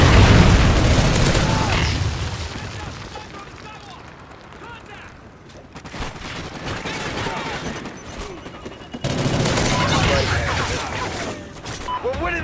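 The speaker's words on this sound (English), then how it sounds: "Friendly Trinity rocket inbound." A Trinity rocket strike explodes in Call of Duty: Ghosts, a heavy booming blast opening loud and decaying, followed by gunfire and another surge of rumbling explosions, with game voices speaking throughout.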